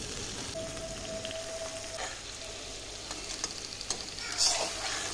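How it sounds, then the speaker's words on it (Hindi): Soft, steady sizzling of boiled mutton frying in a karahi pan, with occasional scraping and stirring clicks, fairly quiet and close. "इस मटन की गोश्त को हम अच्छे से फ्राई करेंगे"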